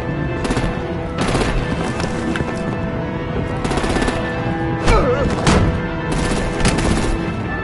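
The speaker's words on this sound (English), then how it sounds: "Break out the artillery and disable their vehicles!" Sustained gunfire and artillery from a Batman video game, with dense bursts of automatic shots and heavier booms rolling on loudly without pause, a few sharper blasts standing out near the end.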